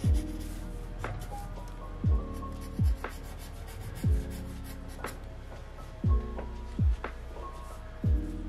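Pencil scratching on paper during a real-time drawing session, heard as a soft, continuous rasp close by, broken at intervals by low thumps.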